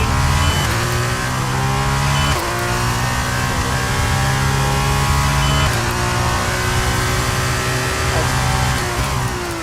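A Formula 1 car in F1 23 roars loudly through a sequence of corners, the engine pitch climbing and dropping repeatedly as it shifts and brakes, alone without commentary.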